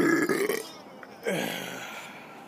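A person lets out a couple of burps, a short one first and then a longer, drawn-out belch that fades, alone without speech.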